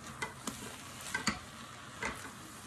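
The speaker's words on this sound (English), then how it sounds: "let's give it a good mix" Meat and Holy Trinity vegetables for Louisiana dirty rice are stirred in a hot pan, with a spoon scraping in a few distinct strokes over a soft, steady sizzle. No one talks.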